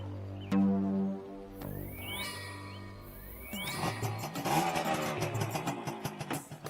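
A car's engine starts and revs, then pulls away with a rising, continuous drone over a steady background hum and music.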